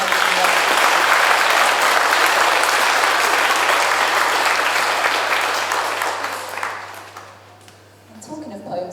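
Loud, dense applause from a crowd, sustained for several seconds before tapering off, with a brief smattering of clapping at the very end.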